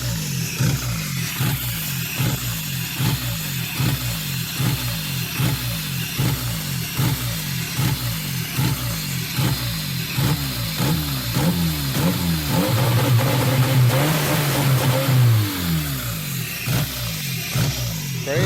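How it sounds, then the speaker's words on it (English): A Honda Del Sol engine with newly fitted headers holds a fast, choppy two-step launch-control rev, a loud, close pulsing burble sustained throughout, rising into a brief higher, smoother surge near the end before dropping back. "That's a nutty two-step."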